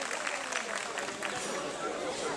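Broad steady crowd applause at an outdoor village festival wrestling event, honoring a wrestler, dense and continuous with cheering mixed in and faint voices underneath.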